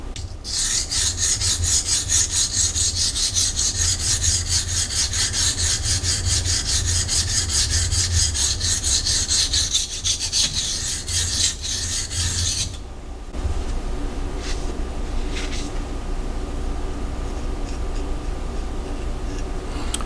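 Steady rasping strokes of a Ruike P801 knife with 14C28N steel blade being sharpened at the tip, continuous and close for about thirteen seconds, then quieter scattered scraping and light ticks as the work changes.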